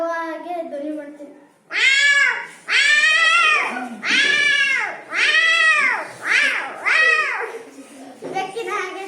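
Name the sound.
boy imitating cats fighting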